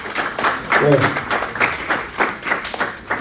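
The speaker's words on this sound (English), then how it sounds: "Clap it up for your staff, y'all" An audience claps for staff at a break-out session in Anaheim, California, a short burst of scattered hand claps under a speaking voice.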